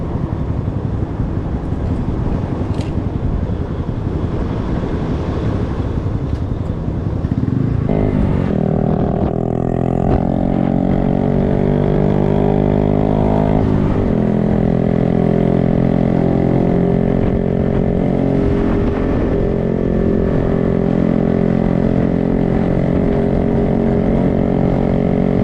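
A Honda Grom motorcycle ridden on a chilly day: a steady engine drone with wind rush throughout, its pitch rising and holding as the bike gains speed midway, with no talking.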